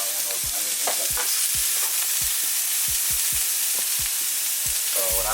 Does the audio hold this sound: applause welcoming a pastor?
no